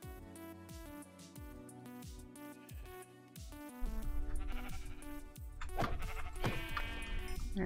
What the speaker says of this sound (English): Look, there's sheep.